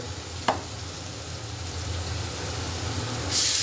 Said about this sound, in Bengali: চলো মোচাটা ছেড়ে দিই এর মধ্যে